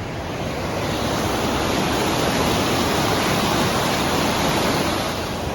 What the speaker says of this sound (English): Got a dam underneath.